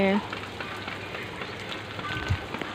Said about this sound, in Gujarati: આવો વરસાદ છેલ્લા કેટલા દિવસ જ ચાલુ છે